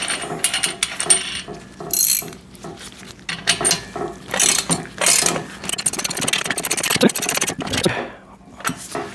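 Repeated ratcheting clicks and metallic clanks as a big nut is tightened during assembly of a VEVOR pec deck and rear delt home gym machine, coming in loud close bursts with short pauses between them.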